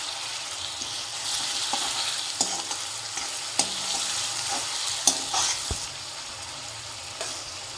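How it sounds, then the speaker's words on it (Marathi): Chopped onion with turmeric and bay leaf sizzles steadily in a hot pan while a spoon stirs it, scraping and tapping against the metal at irregular moments. "कांदा परतून झालेला आहे।"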